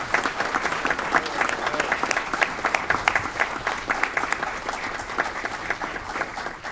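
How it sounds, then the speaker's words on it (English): Dense, steady applause fills a city council meeting in Aurora as a police officer from the Aurora Police Department is honored, the clapping sustained and loud from start to finish. "Please give a big round of applause for Officer Will Whitfield."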